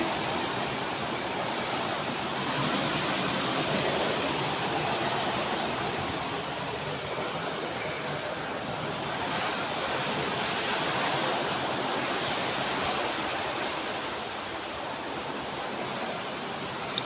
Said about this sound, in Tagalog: Malakas pa rin yung hangin guys.